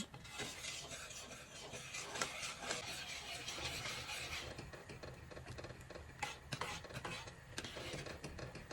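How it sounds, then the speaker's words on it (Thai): A spoon stirs a coconut-milk agar mixture in a pot, steady scraping and swishing strokes with small metallic clinks running continuously and fairly close, no voices. "คนต่อไปค่ะ จนไม่มีเม็ดเล็กๆติดที่ช้อนแล้ว แสดงว่าวุ้นละลายดีแล้ว"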